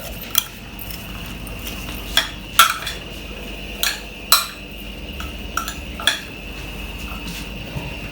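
Spoon clinks against a metal bowl while mutton biryani marinade is mixed with salt and lemon juice, giving sharp, irregular metallic taps over a soft, quiet stirring scrape.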